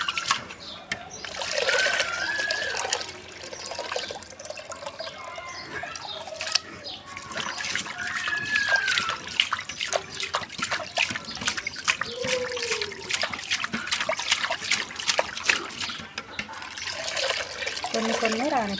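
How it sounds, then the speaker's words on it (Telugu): Rice being washed and sifted by hand in water, about eight kilos at a time for making snacks: steady trickling, sloshing and light splashing run throughout with short pauses, close by and fairly loud. "మనం రోజుకి దగ్గరగా 8 కేజీల బియ్యం ఇట్లా రోజు గాలిచ్చి పోస్తాం అన్నమాట"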